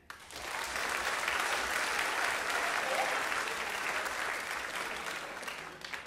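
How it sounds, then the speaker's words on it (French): Audience at a Quebec stand-up comedy show breaks into full, steady applause that swells quickly after a brief start and holds evenly, fairly near and moderately loud, with no voices above it. "on applaudit"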